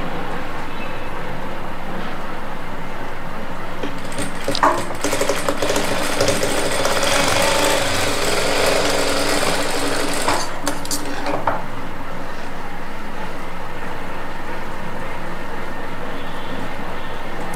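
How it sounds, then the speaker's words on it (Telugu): A sewing machine stitches straight along a length of cloth, running as a loud, steady whir for about six seconds before stopping. Fainter handling noise comes before and after the stitching. "ఇది ఇలా స్ట్రైట్గా పెట్టేసుకొని స్టిచ్ చేసుకోవాలి."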